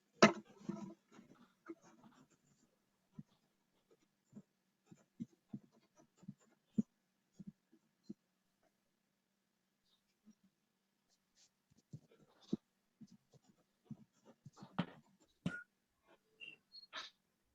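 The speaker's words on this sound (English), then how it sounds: "So I'll write down the meaning here." Notes are handwritten on paper in short scratchy pen strokes, close and quiet, broken by pauses and occasional breaths.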